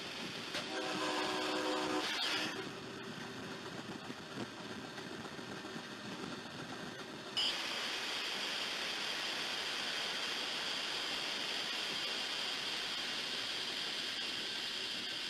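A train wreck clip played over a stream, heavily staticky: a loud harmonic whistle or horn blare with screeching metal in the first two seconds, then a harsh, dense hiss of noise and grinding that continues to the end.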